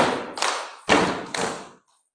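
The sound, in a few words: children clapping hands three times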